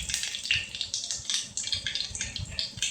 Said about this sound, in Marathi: तर तेल तापलेले, जिरा मोहरी टाकले. छान असं नाचतं आहे जिरे मोहरी.